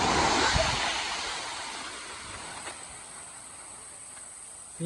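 A waterfall in southern Laos, Tad Pheung, gives a steady rushing wash of falling water, strongest at the start and easing slightly, broad and constant like surf without any voices over it.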